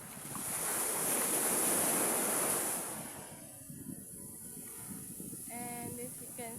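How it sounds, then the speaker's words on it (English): Waves wash onto a cold beach with a loud surging rush and hiss for the first few seconds, then ease into a quieter steady wash with some wind buffeting the microphone. "This is my childhood beach."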